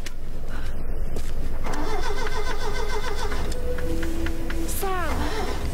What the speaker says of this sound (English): Who's trying to start up a car? Or an engine to the boat?